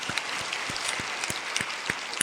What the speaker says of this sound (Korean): 우리 고생한 아내분들에게 우리 감사의 박수 한번